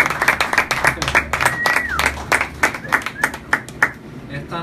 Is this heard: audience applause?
yes